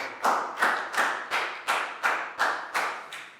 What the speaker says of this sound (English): High five, big round of applause